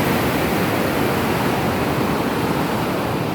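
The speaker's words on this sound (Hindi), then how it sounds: "तो ये पानी का बहाव भी काफ़ी तेज़" Loud, steady rush of a fast-flowing glacier stream near Ishkoman, Pakistan, a dense broadband roar with no pauses, close to the listener.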